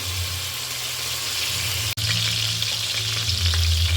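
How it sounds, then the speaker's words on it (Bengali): Salted potato pieces fry in hot oil for a Bengali-style meat curry, a loud, steady, close sizzle over a low hum with one momentary dropout. "আলুগুলোকে আমি এখন তেলের মধ্যে ভেজে নিচ্ছি"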